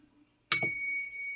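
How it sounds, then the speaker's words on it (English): A single bell is struck once after a brief quiet moment, its bright metallic ring sustaining and slowly fading over about a second, heard up close and alone. "let's ring this bell"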